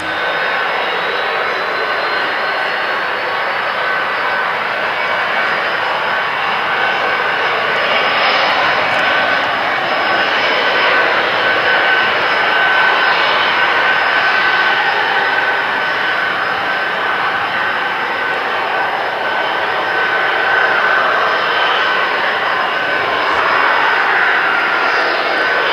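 An RAF Nimrod MR.2 maritime patrol jet taxis with its jet engines running, a loud, steady roar with a high whine on top that holds unbroken for nearly half a minute, with no talk.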